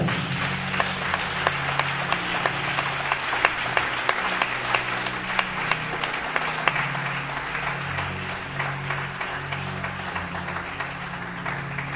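A church congregation applauding, a continuous wash of many hands clapping with sharp individual claps on top, with a low sustained tone and faint voices underneath, gradually thinning toward the end.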